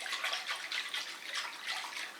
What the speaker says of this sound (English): I'm going to take my whisk and I'm just going to mix the honey in the water